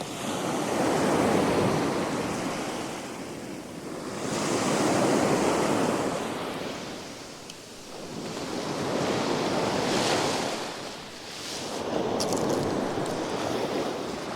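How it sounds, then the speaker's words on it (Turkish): Sea waves roll onto a city beach in Mersin in winter, four broad surges washing in and receding in a slow, regular rhythm, with steady wind noise and no voices. "Şöyle biraz size dalga sesini duydurayım."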